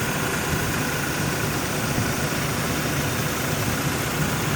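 A 1986 Oldsmobile Cutlass Supreme's 5.0-litre 307 V8 with a four-barrel Quadrajet carburetor idles steadily up close, a constant low rumble with no talking.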